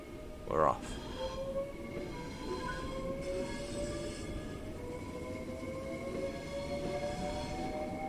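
A Southeastern high-speed train in Train Sim World 3 pulls away from a platform with a steady rumble and rising whining tones, heard from close by after a brief squeal.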